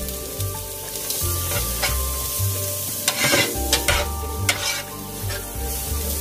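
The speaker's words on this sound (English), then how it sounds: "we are going to start with sauteing our onion" White onion sautéing in a pan for chopped-cheese burgers, a steady sizzle with repeated scraping stir strokes and a few louder clatters near the middle, close and continuous with no talking.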